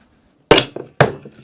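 Ice dropped into a cocktail glass while mixing a vodka, clam juice and Worcestershire drink, two sharp clinking clatters about half a second apart, close and clear in an otherwise quiet moment.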